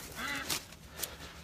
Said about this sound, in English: you can hear in the background our quack pack is over here. We got the chickens, we got the ducks.